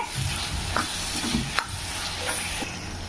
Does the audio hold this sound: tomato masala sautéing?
yes